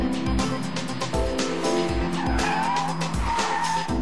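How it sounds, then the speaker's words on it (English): An Opel Astra with all-wheel disc brakes, standard ABS and brake assist brakes hard, its tires skidding and squealing in a rhythmic, pulsing pattern over the steady engine noise, loud and close. "All-wheel disc brakes, standard ABS, and brake assist all work together for excellent deceleration."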